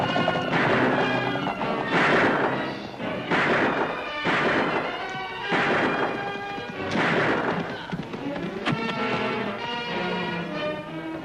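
Horses whinny and snort loudly in several bursts, with heavy thuds and commotion mixed in, all close by, in a scene from the Annie Oakley western TV series.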